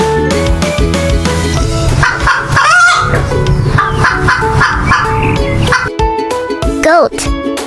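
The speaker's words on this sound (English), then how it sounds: "Hen," A farmyard hen clucks over a bouncy children's music backing that plays loudly throughout, the bird's calls blending into the melody.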